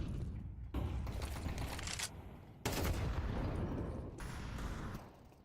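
Sustained gunfire from Counter-Strike 2 during a competitive match, with dense, continuous bursts of shots broken by brief pauses, loud and close throughout.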